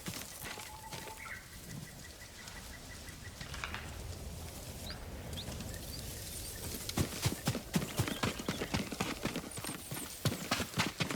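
Horse hooves clop rapidly at a gallop in the Ghost of Tsushima video game, faint at first and then louder and denser toward the end, with light ambient chirps behind.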